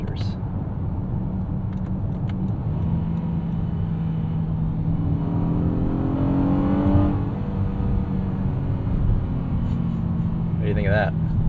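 A 2025 Honda Odyssey minivan's V6 in sport mode, revving up through a rising engine note then dropping with a paddle-shift downshift, heard from inside the cabin with a voice speaking briefly near the end.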